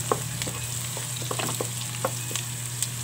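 Minced garlic and onion sautéing in a pan for ginisang bagoong alamang give off a steady soft sizzle with occasional small pops and stirring scrapes, close and moderately quiet.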